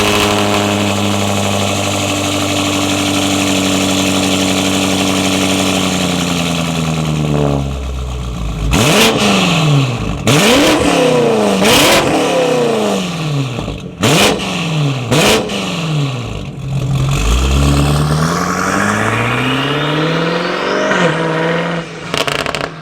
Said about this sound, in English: the induction noise is pretty sick in this car. It's very loud.